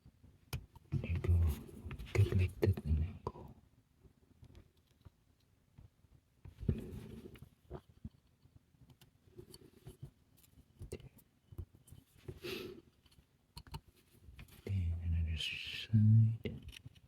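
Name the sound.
hand knife whittling wood, carving a cardinal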